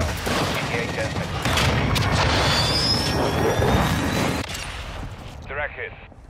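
A Dragon aircraft's missile strike in Call of Duty: Modern Warfare II, with dense, loud gunfire and booming impacts under a jet roar, while in-game voices call out over the din before it abruptly cuts to quieter chatter.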